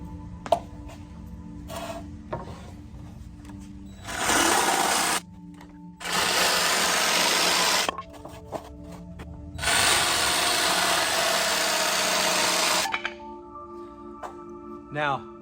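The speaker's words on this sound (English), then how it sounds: "I'm going to cut these out just using a good old jigsaw" A jigsaw cuts through wood boards in three loud buzzing bursts, each a few seconds long, separated by quiet pauses filled with handling clatter and small knocks.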